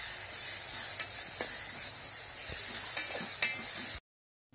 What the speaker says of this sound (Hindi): अब हम डालेंगे अदरक का पेस्ट और लहसुन का पेस्ट डालकर अच्छी तरह से मिक्स कर लेंगे।